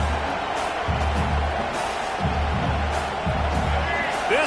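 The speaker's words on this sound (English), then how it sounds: "This crowd bringing the energy and noise early." A stadium crowd roars in a college football video game, with Ole Miss playing at LSU. The crowd noise stays loud and steady throughout, and commentary runs over it.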